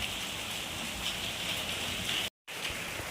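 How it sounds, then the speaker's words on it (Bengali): Heavy rain falling steadily, a dense continuous hiss of drops on surfaces with a brief dropout near the end. "বেশ জোরে বৃষ্টিটা হচ্ছে।"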